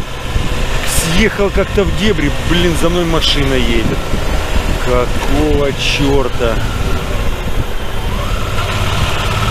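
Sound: car driving behind on a dirt road

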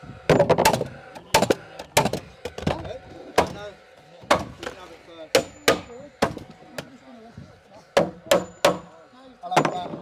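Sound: hammering during garden room wall construction

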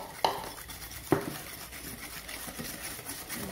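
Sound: beating tiramisu cream mixture by hand

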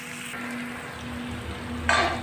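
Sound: okra (bhindi) frying in a pan

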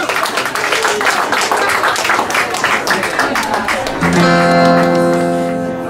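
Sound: audience applause welcoming Mikael on stage

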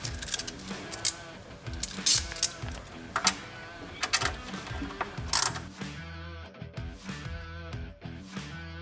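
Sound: tightening bolts on golf cart install

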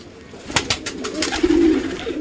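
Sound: pigeons cooing

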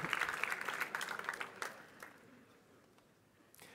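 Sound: audience applause for a speaker

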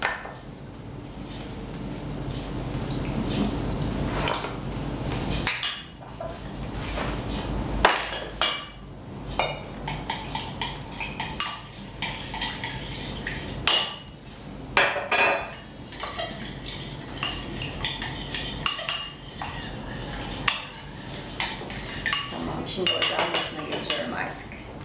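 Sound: stirring tomato paste with water in a bowl

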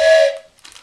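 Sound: toy train whistle blowing

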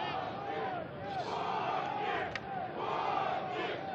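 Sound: hockey fans chanting team name Vodnik in stands

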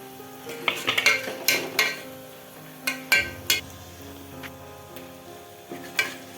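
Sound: onions frying in oil

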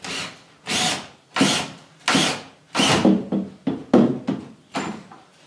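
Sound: screws being driven into wall studs

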